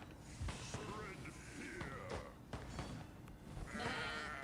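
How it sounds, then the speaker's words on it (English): Sheep emote bleats spammed by another player in a video game, repeated wavering bleats layered over ongoing talk and game noise. "The guy Che with level 13 Boneheart who spams the sheep and the tongue emote, bro."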